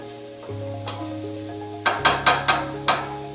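Onions sautéing in a pan: a low steady hum under a soft background, then a cluster of sharp scraping stirs against the pan, close and distinct.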